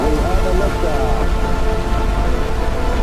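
Rocket engines roar at liftoff of an Orion spacecraft launch with all engines running: a loud, dense, steady rumble that fills the whole stretch without a break.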